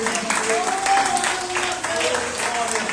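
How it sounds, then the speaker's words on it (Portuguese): Church congregation applauding at the close of a prayer, a steady wash of clapping through the whole stretch with voices mixed in underneath. "Só quem crê, aplauda o nome dele."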